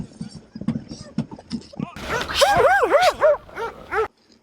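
A dog barks and yelps in quick, excited bursts near the listener, rising into whining, howl-like cries, with a person talking over the start.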